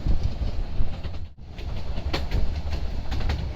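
A heritage train on the Goram Ghat line in Rajasthan rolls along the rails with a continuous loud rumble and rhythmic clickety-clack wheel beats, heard alone without voices.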